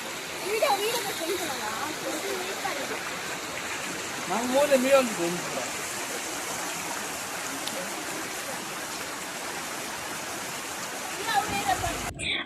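Steady rushing of a waterfall and flowing stream water runs throughout, broadband and continuous, with brief splashes and faint voices of people talking in the background around the middle and near the end.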